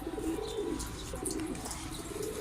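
Soft, low cooing from a pigeon repeats over a constant background hiss, fairly close and unhurried.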